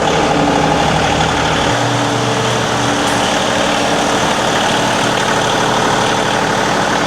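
A tractor's heavy diesel engine idles loudly and steadily up close while warming up for an oil change, a low rumbling drone that shifts pitch slightly early on, then continues evenly.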